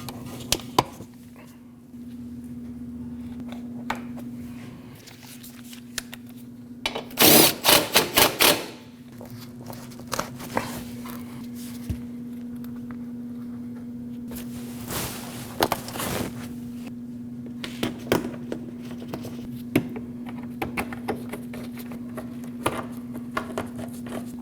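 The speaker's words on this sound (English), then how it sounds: "Put your clips back on." Plastic retaining clips are pressed onto the front inner fender liner of a 2014-2023 Jeep Cherokee, making bursts of rapid hard clicks and snaps at two separate moments over a steady background hum.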